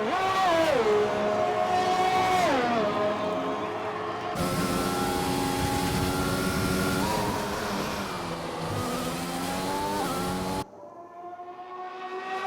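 A race car engine in a Formula-style racing video game at the Australian Grand Prix, a loud rising and falling whine as it revs through gears, steady and close before cutting off near the end.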